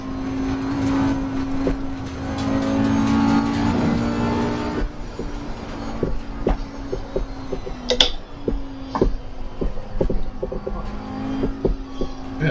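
An Audi GT4 race car engine in Assetto Corsa Competizione, a steady droning tone that drops off partway, followed by quieter engine noise with scattered clicks and knocks, no talk.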